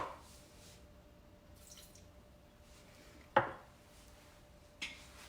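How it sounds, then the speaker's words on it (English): Two tablespoons of water tipped into a mixing bowl while making hot cross buns: two brief, sharp liquid splashes a second or so apart over quiet room tone. "I'm going to use 2 tablespoons of water."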